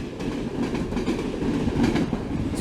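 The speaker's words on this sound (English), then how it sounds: "Meanwhile, a train passes the station there." A train rolls past a station in Hungary with a steady rumble and clatter of wheels on rails, loud and continuous, with no voices over it.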